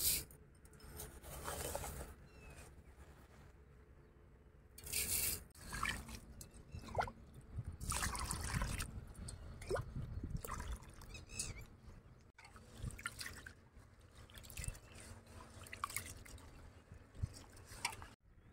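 Basmati rice being washed by hand in water, with irregular close sloshing, dripping and trickling splashes that come and go in uneven bursts.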